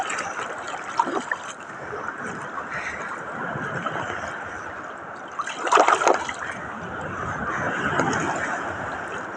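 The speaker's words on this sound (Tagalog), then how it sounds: "Ang lalaki ng alon dito." Big sea waves wash steadily along a beach in Zambales, a broad continuous surf roar with one louder crash and splash midway, heard close and alone.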